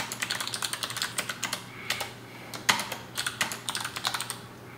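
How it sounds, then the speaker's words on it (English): Keystrokes on a computer keyboard while entering text, a steady run of light clicks in irregular bursts, close and alone against a faint background hum. "Now I can type Chinese characters inside all the applications."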